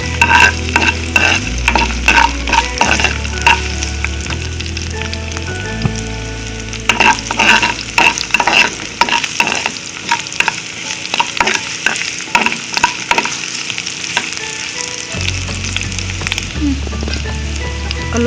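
Onions sizzle and fry loudly in a pan while being cooked for pasta, a steady crackling hiss broken by repeated stirring scrapes, with no one speaking.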